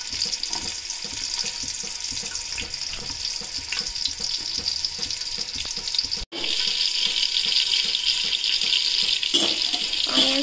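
Onions frying in oil and ghee in a pot make a loud, steady close-up sizzle, with stirring scrapes throughout, a brief dropout partway, then the hiss resuming stronger.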